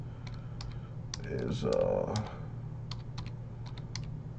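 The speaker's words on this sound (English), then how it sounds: "typing with one hand" Uneven bursts of crisp keystrokes on a computer keyboard typed with one hand, close and fairly quiet, with someone speaking briefly in the middle.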